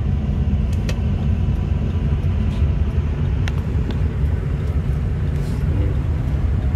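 A 2006 Ford F-350 with a 6.0L Powerstroke diesel and straight pipe exhaust: a steady, deep engine rumble with a low exhaust drone runs throughout, close and continuous, with faint clicks and rattles on top.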